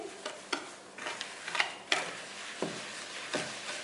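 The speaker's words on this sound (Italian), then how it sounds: "Vado a mescolarle semplicemente con una frusta." A whisk beating eggs, sugar and desiccated coconut in a bowl, with soft irregular clicks and taps against the bowl's side, quiet and close with no voices.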